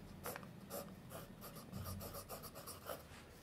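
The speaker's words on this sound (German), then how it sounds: "durch dieses Iridiumkorn gleitet der Füllhalter angenehm weich übers" A fountain pen with an iridium-tipped nib glides across paper in a series of quick, soft scratchy strokes, close and quiet, with brief pauses between them.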